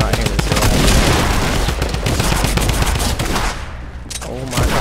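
Machine gun fire from a video game, loud rapid bursts of shots crowding a few seconds, then a short lull before more fire resumes.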